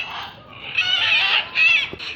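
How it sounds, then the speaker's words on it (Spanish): Macaws in Parque del Este, Caracas, give harsh, raspy squawking calls, several loud overlapping bursts close by in the open park air. "lo primero que vas a ver así en el cielo y vas a escuchar las guacamayas"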